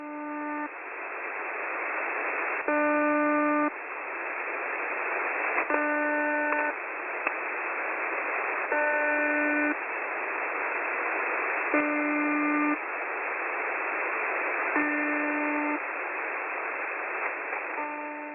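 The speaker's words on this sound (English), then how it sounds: "Listening on February the 8th revealed a higher pitched buzzer marker on the frequency" A harsh, higher-pitched buzzer marker on a Russian shortwave frequency sounds in short bursts roughly every three seconds over continuous radio static hiss, repeating steadily.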